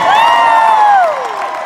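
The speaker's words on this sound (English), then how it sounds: "A round of applause for this man." An audience at a live comedy or drag show erupts in a loud, sustained cheer with a rising whoop, a crowd roar more than distinct clapping, tapering off after about a second.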